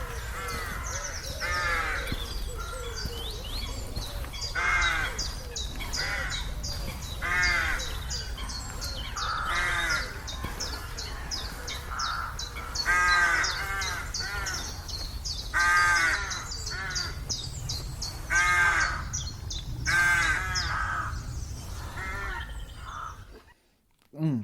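A Hawaiian goose (nene) gives repeated honking calls, one roughly every two to three seconds, moderately close over a steady low background hum, with no voices.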